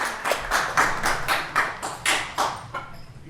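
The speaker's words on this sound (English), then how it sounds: "All right, great big round of applause." A few people at a school governing board meeting clap in a slow, even rhythm, about eight distinct hand claps that are close and fairly loud, with no talking.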